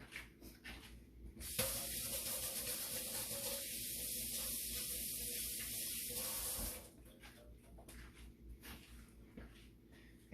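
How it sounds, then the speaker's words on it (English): Running tap water pours over hands being rinsed, a bright steady hiss that starts abruptly and runs for about five seconds before cutting off, leaving quieter room noise on either side. "let me rinse my hands real quick"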